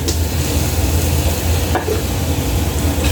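Onion and tomato sizzling steadily in a hot pan for ginataang kalabasa, with stirring scrapes and a couple of brief clatters over continuous frying hiss.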